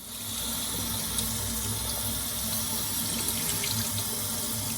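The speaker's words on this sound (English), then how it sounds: "we just washed our 1 cup of green lentils" Green lentils are rinsed under a running kitchen tap, a loud, steady close gush of water hitting the sink that continues without a break.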